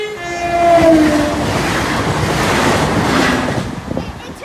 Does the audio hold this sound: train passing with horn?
yes